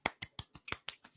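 Quiet, soft hand claps close by, about seven quick sharp taps in an even, rapid rhythm over a second, alone without talk.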